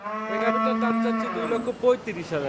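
A dairy cow moos nearby at a cattle sale in a long, deep, sustained low call that trails off, loud and close.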